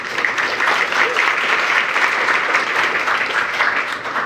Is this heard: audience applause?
yes